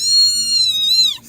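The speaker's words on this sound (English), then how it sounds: "Does this remind you of any other kittens that were very yelly?" A kitten lets out a single loud, drawn-out meow, high and close, wavering before dropping off sharply at the end, with nothing else heard.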